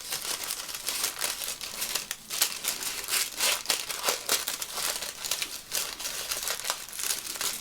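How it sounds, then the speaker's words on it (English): Continuous crinkling and crumpling of paper with sharp bursts of tearing, close and fairly loud, with no voices. "Let's just cut that out and then I can tear it"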